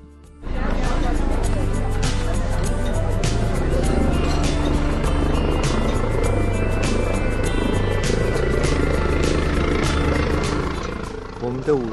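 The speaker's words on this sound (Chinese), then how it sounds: "一台直升机降落" A helicopter lands on the Zugspitze glacier platform, its rotor a steady, loud thudding drone with a strong low hum that holds throughout, nearby and continuous, with voices mixed faintly underneath.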